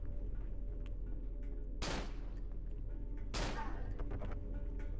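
Gunfire in the video game Cry of Fear: two loud, sharp gunshots about a second and a half apart over a low steady hum, with faint talk in the background.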